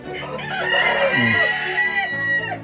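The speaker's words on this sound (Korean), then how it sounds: "세상에 아주 이쁜 샤모 종류입니다 이게." Shamo chickens roaming free, with a rooster crowing loudly and close alongside clucking hens, the crow rising and holding for about two seconds.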